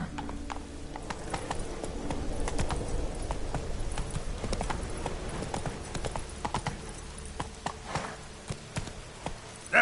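Hooves of Geralt's horse Roach clip-clop steadily on the ground in The Witcher 3, a brisk, close, continuous rhythm of hoofbeats with a faint snort, and no talking.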